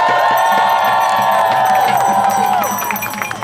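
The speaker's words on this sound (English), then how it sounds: "Let's give him another round of applause." Outdoor rally crowd at Columbus Circle cheering, whooping and applauding for the full length, a dense loud roar of many voices that thins slightly toward the end.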